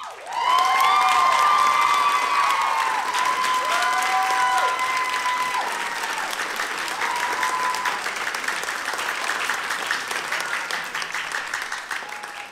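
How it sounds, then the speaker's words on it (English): An audience at a comedy show applauds warmly for a group of animators, with sustained clapping, a few whistles and shouts near the start, and the applause gradually thinning out. "could we give these guys a clap?"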